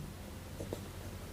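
Pen writing on paper during a maths lesson, faint short scratching strokes over a low background hum.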